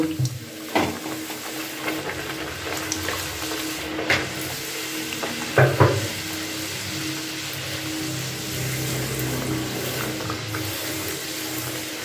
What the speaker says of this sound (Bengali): এইভাবে সমস্তগুলোকে আমি ভেজে নেব।